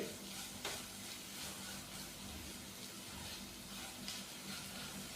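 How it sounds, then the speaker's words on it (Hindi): A masala of crushed red chili and chopped green chili roasts in a pan, a faint, even hiss and sizzle with occasional soft stirring scrapes and no voices. "मसाले को हम हल्का सा रोस्ट करेंगे तकरीबन 2 मिनट के लिए"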